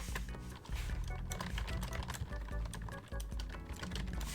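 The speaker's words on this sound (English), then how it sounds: "So now I'm gonna type in whatever." Rapid typing on a computer keyboard, with a steady run of close, crisp key clicks.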